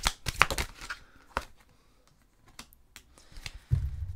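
Tarot cards being shuffled to draw an advice card, a run of quick papery riffles and slaps near the start, then quieter card handling and a soft thump at the end, with no talk.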